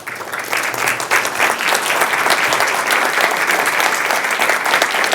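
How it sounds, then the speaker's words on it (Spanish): A lecture audience gives strong, continuous applause for a speaker on city planning, dense and loud from start to finish after a quick rise at the beginning. "Fuerte el aplauso"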